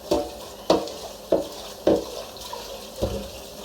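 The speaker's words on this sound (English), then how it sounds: "So I will whisk out the pot." A pot of Edo black soup is whisked out in five evenly spaced scraping, sloshing strokes, wet and fairly soft, with nobody speaking.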